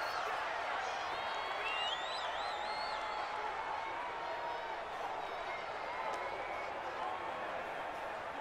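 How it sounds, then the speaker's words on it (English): Crowd noise fills the Dome during a Saints vs Texans football game, a steady distant roar with faint whistles and cheers under it, sustained without a break. "The crowd here in the Dome making things difficult"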